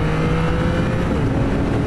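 A Yamaha MT-09 with automatic Y-AMT transmission in its sportier D+ mode downshifting, a loud, close, steady engine drone with a brief whirring rise.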